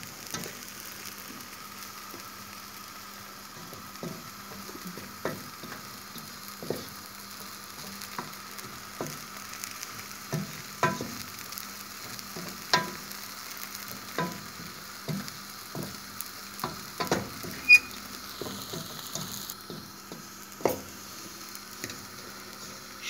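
Flour roasting in a pan for Turkish flour halva from the Iğdır region makes a soft continuous sizzle, steady and close, with frequent scraping stirs breaking through it.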